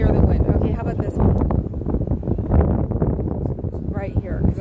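Wind buffets a phone microphone outdoors in windy Alameda, a loud continuous low rumble and rustle throughout, with a voice faintly underneath.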